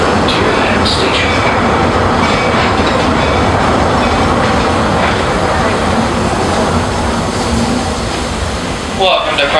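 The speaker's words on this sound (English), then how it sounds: "please remain completely seated till the train comes to a full and complete stop" A Walt Disney World Railroad train pulls into Frontierland Station with a loud, continuous rolling rumble and wheel clatter that eases toward the end.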